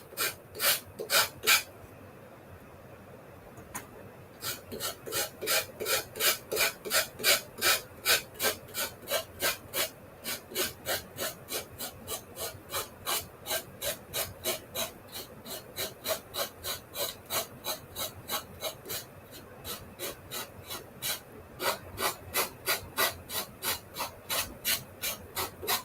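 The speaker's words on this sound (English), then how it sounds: "So this curve is interesting to try and sand." Hand sanding along the curved edge of a small wooden cutting board, a close rhythmic rasping of steady back-and-forth strokes, repeated for the whole span with only brief pauses.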